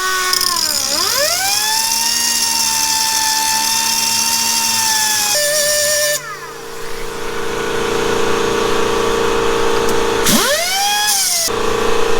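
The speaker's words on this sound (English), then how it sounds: "So we're gonna try a cut-off wheel now" A loud, sustained high-pitched whine of an abrasive cut-off wheel grinding through metal while lowering a Subaru SVX, dipping in pitch as it bites, pausing briefly, then spinning back up.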